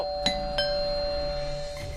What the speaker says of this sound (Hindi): कब से घर की घंटी बज रही है, दरवाजा खोलो।